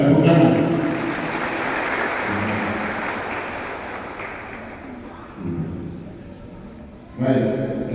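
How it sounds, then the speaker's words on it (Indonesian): An audience at a gospel anniversary gathering in Yahukimo breaks into loud, sustained clapping that gradually fades, with voices rising at the start and again at the end. "Ya, tepuk tangan."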